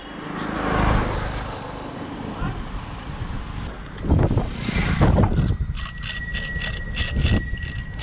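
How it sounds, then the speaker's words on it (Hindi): A bicycle bell rings in a quick run of bright repeated dings near the end, over steady wind noise and outdoor rumble. "अरे वाह, एडी को घंटी भी आ गई। बजाओ घंटी, बजाओ।"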